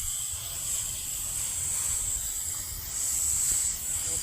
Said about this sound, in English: So we're watering everything that's right here on the mist setting.